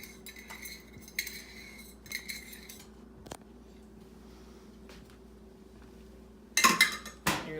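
A whisk stirs a seafood au gratin mixture in a pan, giving a few soft scraping strokes and light metallic clinks, quiet with pauses, then a louder clatter at the end.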